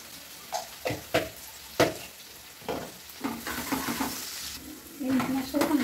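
Onion and whole spices (cardamom, cloves, cinnamon) frying in hot oil in a kadai, with a soft sizzle and occasional spatula scrapes and taps, close but fairly quiet, building toward a louder sizzle at the end.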